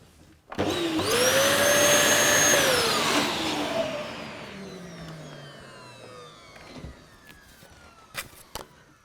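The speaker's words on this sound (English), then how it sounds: "So what I've got is an old Dyson vacuum cleaner." An old Dyson vacuum cleaner switches on with a rising whine, runs loudly for a few seconds, then winds down, followed by a few faint clicks.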